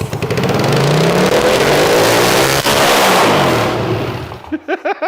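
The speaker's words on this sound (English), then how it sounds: "We got the motor unstuck and then got it to fire up." A seized Honda CX500 adventure motorcycle engine fires up and revs loudly and continuously, then cuts out near the end, leaving a few short sputters and some voices.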